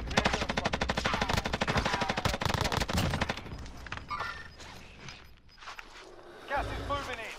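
Rapid machine gun bursts rattle loudly in the Warzone video game, a dense volley that fades into scattered shots, with players talking over the gunfire.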